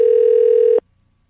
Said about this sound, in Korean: 전화 연결 다시 해볼게요